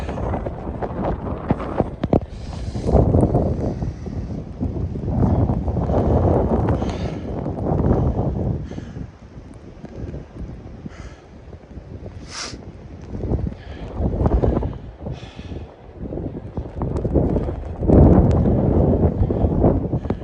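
Blizzard wind in Regina in November buffets a microphone outdoors, loud rushing gusts that surge and ease in repeated waves, with brief sharper blasts and no voices.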